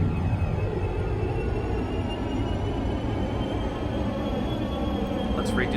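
An airliner on final approach in the X-Plane 11 simulator, flying from Kahului to Honolulu, gives off a steady loud engine roar and rumble that holds level throughout with a faint high whine.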